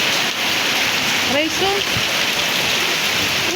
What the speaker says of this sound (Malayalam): ഇന്നാണ് മഴ പെയ്തിട്ട്